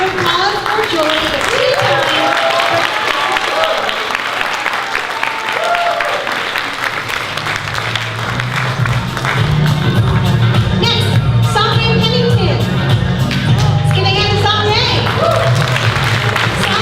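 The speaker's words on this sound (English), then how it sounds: "Let's give another round of applause for Julie." Audience applause at a fashion show benefit, sustained and loud with dense clapping and crowd noise, music and voices running underneath throughout.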